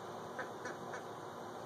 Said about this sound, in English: I have never had a wild duck that was this friendly